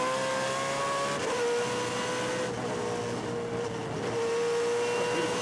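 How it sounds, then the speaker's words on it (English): A Ford Trans Am race car at Sebring International Raceway runs its engine hard throughout, with a steady high-pitched roar that rises and shifts as it pulls through traffic on track. It is loud and continuous. "Yeah, his Ford is really sounding well."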